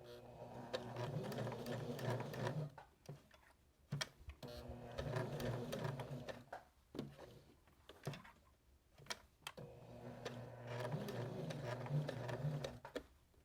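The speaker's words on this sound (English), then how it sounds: "if you need to adjust, just put your needle down, lift your presser foot, and just keep going around" A sewing machine stitches curves on a fabric car freshener, running in steady close bursts of rapid mechanical whirring broken by short pauses and clicks as the fabric is adjusted, with no talking.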